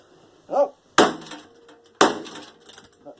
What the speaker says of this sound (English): Nothing good old hammer can't do.